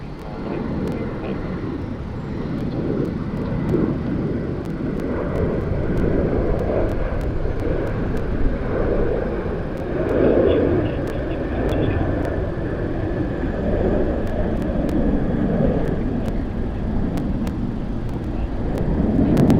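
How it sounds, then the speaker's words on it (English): A Qantas jet on flight 510 from Sydney to Brisbane takes off from runway 34 right at Sydney Airport, a broad, steady engine roar sustained for about twenty seconds, swelling slightly midway, with a voice talking over it. "Qantas flight 510 Sydney to Brisbane taking off right now on 34 right"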